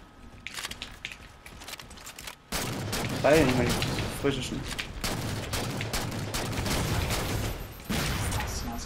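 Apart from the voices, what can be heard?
shotgun fire in a video game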